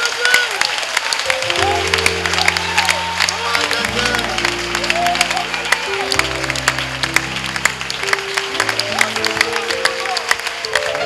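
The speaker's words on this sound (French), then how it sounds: "acclamons très très très très fort" A church congregation claps and cheers loudly and continuously, with music playing underneath and voices mixed into the crowd noise.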